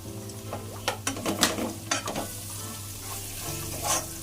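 Two onions frying in browned masala in a pan for vegetable pulao, a steady close sizzle with stirring scrapes and a few louder clatters against the pan.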